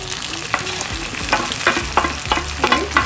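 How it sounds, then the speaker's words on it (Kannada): Tomatoes dropped into a pan of browned onions for mutton biryani, frying with a steady loud sizzle while a spoon stirs and scrapes in repeated strokes close by. "ಈಗ ನಾನು ಟೊಮೆಟೊ ಹಾಕ್ತೇನೆ. ಟೊಮೆಟೊ ಬೇಗ ಆಗ್ತದೆ."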